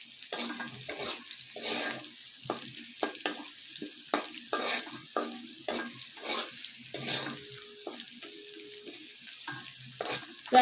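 Garlic and green chili tempering in hot oil for a lentil and red amaranth dish, crackling and spitting in dense irregular bursts, close and continuous with brief pauses.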